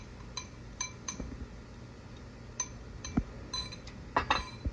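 Steak rub spices being mixed in a dish, heard as light, sparse clinks and taps of a utensil against glass or ceramic, close and fairly quiet, in an uneven rhythm.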